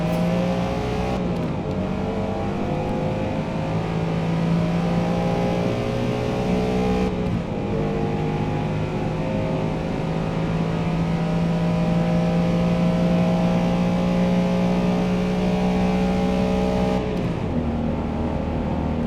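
A race car engine in Forza Motorsport pulls hard through tall gears, a loud continuous drone that climbs steadily in pitch, with brief dips at the gear changes, and no talking.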